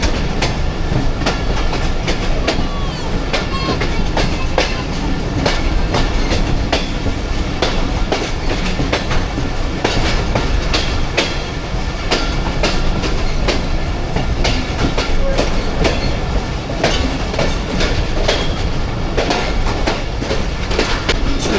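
Inside the 13 Up Awam Express travelling from Rawalpindi toward Attock, a steady loud roar of wheels on rail with continuous rhythmic clickety-clack over the joints, close and unbroken throughout.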